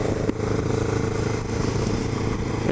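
A motorcycle fitted with an aftermarket flute-style exhaust revs steadily nearby, a continuous loud engine drone with rough clattering texture that holds for a few seconds without talk.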